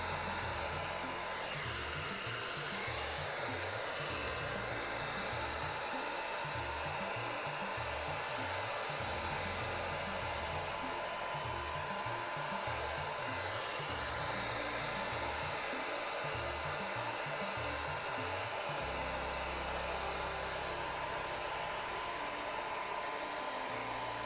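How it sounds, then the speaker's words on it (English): A heat gun blows continuously throughout a cosplay armor crafting session, making a loud, steady airy roar with a low fluctuating hum and no pauses or talking. "So I'm using the heat gun and it's actually opening up"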